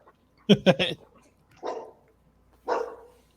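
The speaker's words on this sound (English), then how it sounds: "my dogs got very animated" Dogs in a home bark close by: a quick cluster of three sharp barks, then two lower, rougher single barks spaced about a second apart, with quiet between them.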